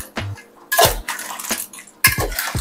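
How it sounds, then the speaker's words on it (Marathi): A spoon scrapes and knocks against a pan as grated coconut is stirred and sautéed with clams, potatoes and onions. Several sharp, close metallic clanks and scrapes come in bursts, with no talking. "थांब ना जरा परतून घेऊ."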